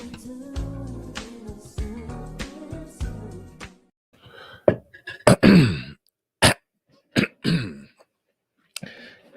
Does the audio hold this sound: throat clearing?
yes